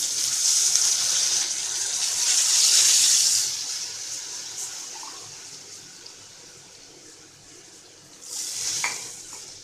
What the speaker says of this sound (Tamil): ஸோ இப்போ நான் 400 ml தண்ணி ஆட் பண்ணியிருக்கேன்.